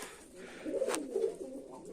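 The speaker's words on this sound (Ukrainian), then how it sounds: "Ось таке голублятко." A young ringed pigeon coos softly at a bird feeder, low murmuring calls rising twice in close succession, near and gentle against faint background noise.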